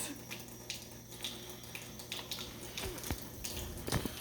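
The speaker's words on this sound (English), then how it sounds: "I'm just washing my hands." Hands are washed under a running tap, with a faint, steady stream of water splashing and some small clatters and knocks.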